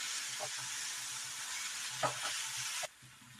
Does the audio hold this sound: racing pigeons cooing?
no